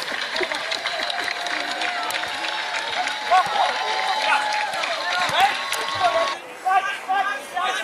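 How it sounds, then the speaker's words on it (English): Football supporters at a PHS Compliance tournament match cheer amid steady crowd chatter and hubbub, a broad wash of many voices that swells and dips, with a few louder shouts near the end. "He's just getting a cheer from the supporters."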